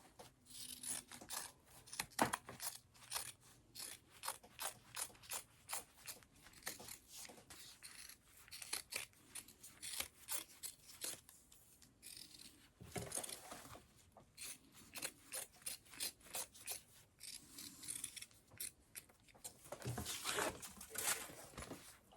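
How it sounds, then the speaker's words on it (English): Scissors trimming excess fabric and threads while sewing a wider backpack, repeated crisp snips in quick irregular bursts with soft rustling of material between cuts, close and quiet. "So now I'm gonna trim down that excess."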